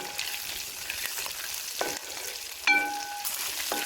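Shallots roasting in a pan for a beef fry give a steady close sizzle with a few spoon scrapes and a sharp clink near the end, no talk.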